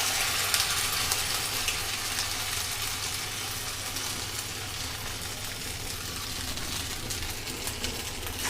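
Fish fritters being fried in hot oil give a steady, close sizzling crackle that stays fairly even throughout, with no voices.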